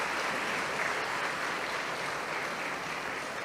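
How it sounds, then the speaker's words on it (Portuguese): Applause from a church congregation, a dense, steady wash of many hands clapping at moderate distance, continuous for a few seconds with no voices standing out. "uma salva de palmas para vocês"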